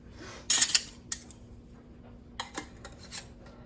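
Metal canning lids clink and clatter as they are set onto jars of hot-packed tomatoes, a cluster of sharp close metallic taps followed by a few softer scattered clicks.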